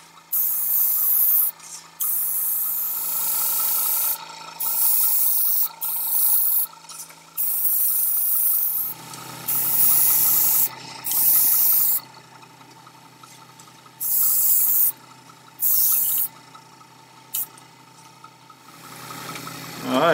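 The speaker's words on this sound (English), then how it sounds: "I apologize for the fan noise and the compressor noise, but you know it is what it is when you're running an airbrush." Airbrush spraying paint on a model railroad depot building, short repeated hissing bursts with pauses, over a steady hum from a fan and air compressor running close by.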